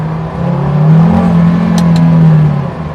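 KTM X-Bow GT-XR sports car engine revving from close behind, a steady loud drone that swells and holds for about two seconds before easing off.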